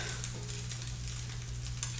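French toast soaked in egg sizzles steadily in a hot pan, a continuous close crackle and hiss with a low steady hum underneath, no voices.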